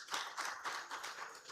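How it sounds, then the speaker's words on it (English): Faint, distant applause from a conference audience, with a brisk run of clapping bursts at an even rhythm throughout and no speech over it. "Please, a very big round of applause for him."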